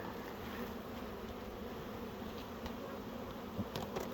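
Honeybees buzz in a dense, steady drone, close and constant throughout, with no one speaking.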